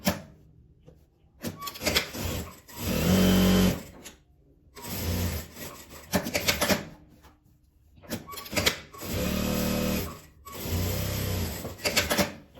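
A sewing machine runs topstitching along folded fabric in several short bursts separated by pauses, with handling noises between the runs.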